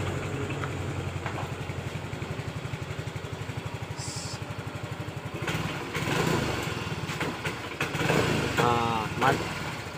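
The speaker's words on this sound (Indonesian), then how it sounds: "Nah, motornya hampir tidak bisa jalan. Repet." A Yamaha Mio M3 scooter with a fault that stops it revving idles close by in a fast, uneven putter, then runs rougher and louder in the second half while a person talks over it.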